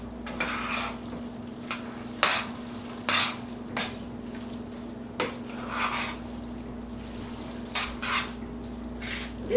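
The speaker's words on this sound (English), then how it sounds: "Incorporate your egg all the way through." An egg is stirred into a shredded cheese mixture in a bowl, with soft scraping and sticky mixing strokes at an irregular pace over a steady low hum.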